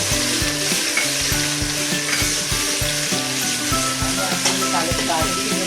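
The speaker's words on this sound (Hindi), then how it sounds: "डालूंगी लहसुन और अदरक का पेस्ट।" Garlic and ginger paste sizzling in hot oil for degi pulao, a constant loud frying hiss under a repeating low melodic music track, no talking.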